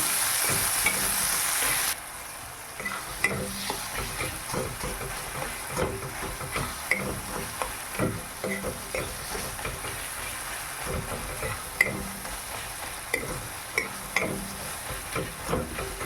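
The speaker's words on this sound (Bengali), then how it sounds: "এবার টমেটো আর লঙ্কা কুচিগুলো দিয়ে দেব। দিয়ে নেড়ে চেড়ে নেব।" Chopped tomatoes and green chillies fry in a pan for an okra-tomato dish, with a continuous sizzle broken by repeated scraping stirs of a spatula at an irregular rhythm, close and clear, with no voices.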